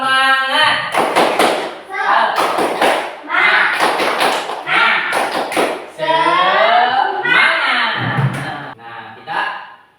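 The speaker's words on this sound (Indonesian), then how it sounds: "ayo semuanya tepuk semangat" A classroom of pupils claps in quick rhythmic bursts for a 'tepuk semangat' cheer, chanting loudly in unison between the grouped claps, with a teacher's voice leading.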